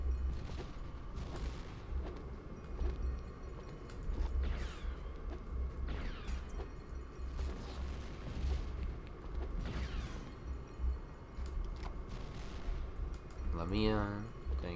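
Blaster gunfire in LEGO Star Wars: The Complete Saga, repeated sharp zaps at a steady pace over a constant low game rumble, with voices talking in the background.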